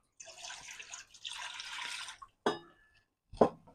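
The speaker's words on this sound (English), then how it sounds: "So in a pot, we are going to combine vinegar and water" Vinegar and water poured into a pot for pickling brine, two bursts of splashing liquid followed by two sharp clunks, close and clear.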